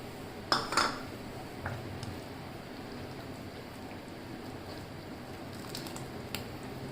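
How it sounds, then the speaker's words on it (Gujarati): Green beans are stirred into a thick fenugreek and millet flour kadhi. A couple of sharp utensil clinks against the pot come at the start, then soft, faint stirring and occasional light taps follow. No speech. "હવે તો એમાં આપણે છેલ્લે લીલા દાણા નાખી દઈશું અને મિક્સ કરી લઈશું."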